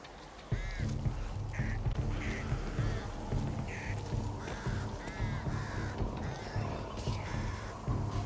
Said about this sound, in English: Bird's over there.